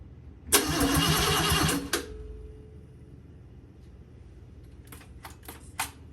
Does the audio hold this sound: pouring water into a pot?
no